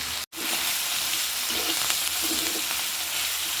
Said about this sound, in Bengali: হলুদ দিয়ে একটু ভেজে নেবো হালকা করে